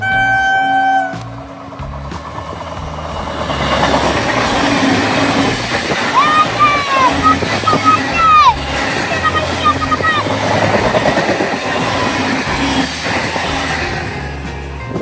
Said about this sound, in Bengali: আর এখন একটা লোকাল আসছে, ওটা হচ্ছে কৃষ্ণনগর লোকাল।